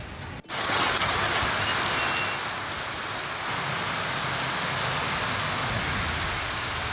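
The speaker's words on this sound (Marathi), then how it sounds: "कोकण घाटपात्यावरती आता जोरदार पाऊस सुरू झाला" Heavy rain in the Konkan ghat region, a dense continuous hiss of downpour on surfaces, loud and close, starting abruptly after a brief gap and holding steady to the end with no voices.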